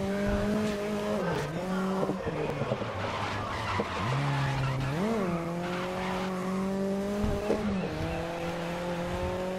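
Super hatch race cars in the racing game GRID, International Street Series: engines drone at high revs while tires repeatedly squeal and skid through corners, loud and continuous with no talking.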